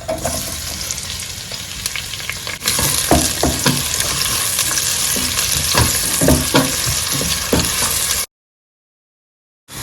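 Shredded shallots and garlic fry in olive oil in a pan. A steady sizzle jumps louder partway through, with repeated close spoon-and-pan stirring clatters over it, before the sound cuts to silence near the end.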